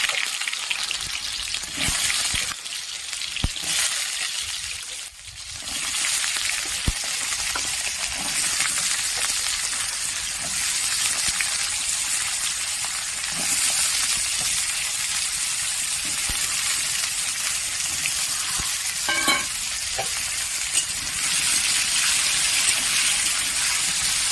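Cut potatoes frying with cumin seeds in a pan: a loud, steady hiss of hot oil sizzling close up, broken by a few knocks and scrapes of a utensil early on.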